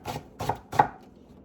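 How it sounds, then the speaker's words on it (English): Three crisp knife chops land on a cutting board at an even pace while finely chopping onion for moose bolognese, close and distinct, followed by a short quiet pause. "Give it a slice through, and then just give it a nice fine chop."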